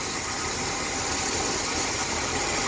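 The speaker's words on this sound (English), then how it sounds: "It's a good running engine." A car engine with fresh plugs and wires idles smoothly and steadily at close range, a continuous broad rumble with no talking over it.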